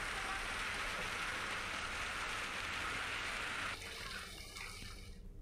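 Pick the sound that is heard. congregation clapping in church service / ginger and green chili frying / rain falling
rain falling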